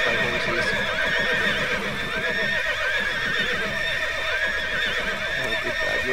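A horse in the online game Tera neighs repeatedly over clip-clopping hooves and a busy game soundscape, loud and continuous.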